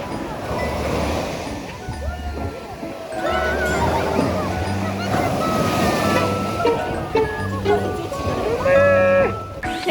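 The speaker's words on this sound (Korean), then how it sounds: "저기 파도 치는 데 가보자." Ocean waves break and wash onto the beach at Sokcho, a continuous surging roar with wind buffeting the microphone, while people talk and call out nearby throughout.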